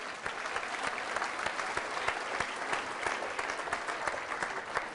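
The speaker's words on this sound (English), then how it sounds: "Give me a big round of applause," Audience applause during a magic show, lively clapping with distinct individual claps, steady throughout and without talk.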